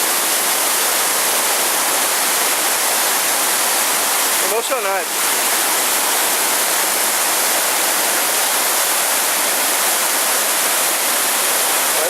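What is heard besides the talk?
Cachoeira dos Padres waterfall, rushing water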